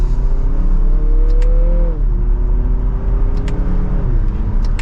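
Heard from inside the cabin, a 2024 Lexus NX 350 F Sport pulls hard from second gear, its engine tone climbing, dipping at an upshift and climbing again over steady road rumble.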